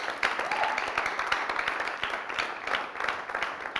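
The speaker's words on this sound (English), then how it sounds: "That deserves a round of applause." Steady applause from a studio audience on a Nigerian television talk show, a dense, even patter of many hands sustained throughout at moderate volume.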